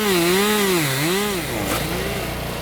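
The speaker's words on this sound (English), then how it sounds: "masked by the roar of a chainsaw" A chainsaw roars close by, its engine pitch rising and falling in waves as it revs continuously.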